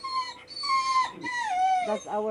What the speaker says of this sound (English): That's my dog Zena. She's crying.